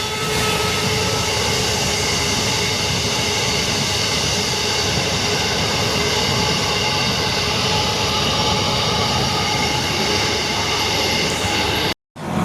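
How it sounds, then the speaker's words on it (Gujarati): A train rolls along its rails in a loud, steady rumble with a rhythmic clatter and a high metallic ring, heard from close by, before the sound cuts off abruptly near the end. "ટ્રેન ચાલુ થઈ ગઈ છે"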